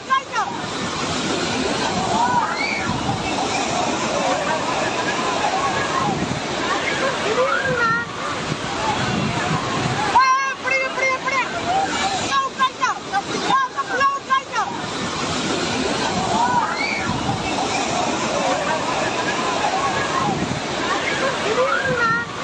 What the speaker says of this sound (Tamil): பழைய குற்றாலம் அருவியில் வெள்ளப்பெருக்கில் அடித்து செல்லப்பட்ட 17 வயது சிறுவன் அஸ்வின்